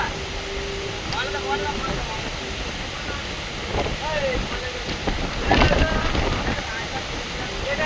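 Strong wind roars with rain during a storm in Bolpur, a dense rushing noise with gusty surges, while voices are faintly heard in the background.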